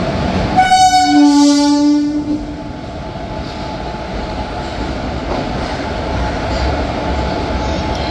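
A WAP4 electric locomotive passes through a station platform on the Kolkata–Haldibari route, sounding a loud horn blast at the start before settling into a continuous rolling rumble.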